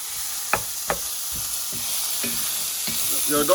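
Joe's Special, the San Francisco breakfast scramble, frying in a pan with a steady loud sizzle throughout, punctuated by a few soft knocks and scrapes of a utensil, close up and without talk.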